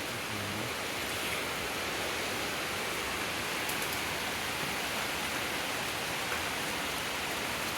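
Steady rain falls on a terrace in the Costa Rican jungle, a dense, even hiss that stays constant and fairly loud throughout, with no voices.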